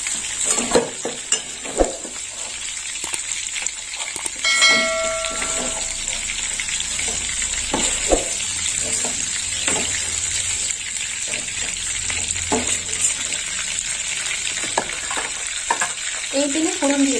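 Fish frying in hot oil, a steady crackling sizzle with stirring and scraping, plus a brief clink of a utensil partway through.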